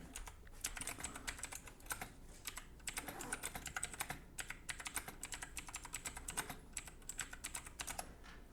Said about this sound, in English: Sorry, I'm typing around the books.